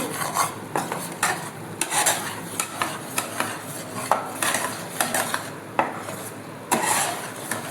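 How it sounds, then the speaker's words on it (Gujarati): A spoon scrapes and stirs flour roasting in a pan for sukhdi, making repeated gritty scraping strokes with light metallic clinks at an irregular rhythm, close and fairly loud. "અને આજુબાજુ ચોટે ને એ રીતે સતત એને હલાવતા રહીશું"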